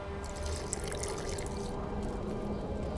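Water poured into an alchemy flask in The Witcher 2, a continuous close trickling and splashing of liquid with faint drips, heard alone without talk.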